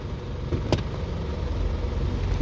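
An Isuzu D-Max pickup, just fitted with a new gear bushing, runs with a low, steady engine rumble, broken by a few brief clicks and knocks near the start.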